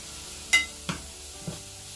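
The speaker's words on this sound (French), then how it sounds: "Feu moyen et continuer à mélanger." A spoon scrapes and stirs a moussaka mixture in a pan over medium heat, three distinct clinks and scrapes against a quiet, faint sizzle.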